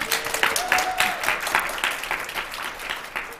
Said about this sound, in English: A big applause for them, guys.